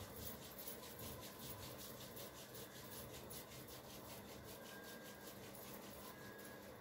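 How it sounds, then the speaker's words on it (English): Hands rubbed briskly together in a steady, continuous dry friction, close and fairly even in loudness throughout, with no voices. "Now rub your hands."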